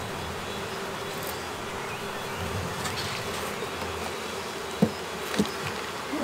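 Honey bees buzzing at a hive in spring, a steady low drone that holds throughout with a few louder passes of single bees close to the microphone.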